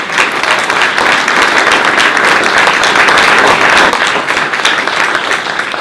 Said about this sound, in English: give a big round of applause to these two candidates